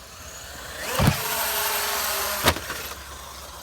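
A Traxxas UDR RC truck drives close by, its electric motor whining and rising in pitch between two sharp knocks or bumps, without speech.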